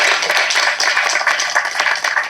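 Applause from the audience at a film audio and trailer launch, a dense, loud burst of clapping that holds steady for a couple of seconds with no talk over it.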